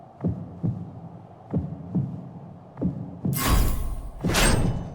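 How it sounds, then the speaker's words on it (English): A heartbeat sound effect in the video game Final Fantasy XIV thuds in slow, steady beats over a low hum, then a burst of louder game noise follows. "I feel like I hear my heartbeat."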